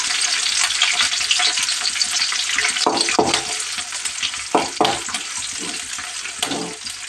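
Slit green chillies sizzle hard in a pan of oil for a chicken liver fry. A steady crackle runs throughout, broken by a few sharp stirring scrapes near the middle and end.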